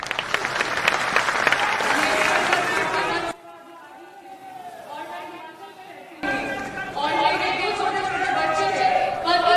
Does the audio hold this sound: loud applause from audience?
yes